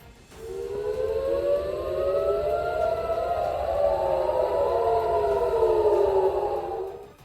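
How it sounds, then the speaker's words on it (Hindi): An air raid siren wails at night in Tel Aviv, its rising and falling tones sliding over each other for about seven seconds, loud and steady, with no voices. "रात के अंधेरे में हवाई हमले का सायरन बजते ही वहां अफरा तफरी मच गई।"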